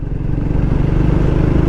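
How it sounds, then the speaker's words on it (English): A Triumph Speed 400 motorcycle pulls in sixth gear from low speed as the throttle opens, giving a loud, steady, close engine drone with no talking. "and I'll open throttle now."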